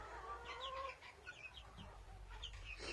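Small young chickens cluck and chirp softly in short bursts, close by in a village yard, over a low steady background rumble.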